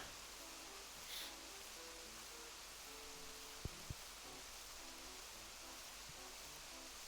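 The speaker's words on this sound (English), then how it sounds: "Sometimes you can just hear the rain barreling down" Heavy rain pours down steadily in Animal Crossing: New Horizons, a soft continuous wash of noise heard faintly under gentle game music notes, with one or two small clicks.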